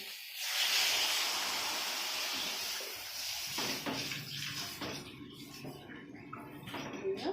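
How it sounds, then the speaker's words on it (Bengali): Water pours into a pan of fried potato curry masala (aloo dum) seasoned with a pinch of sugar, a loud rushing hiss for a few seconds, then quieter bubbling and scattered stirring clatter. "এবার আমি জল দিয়ে দিচ্ছি।"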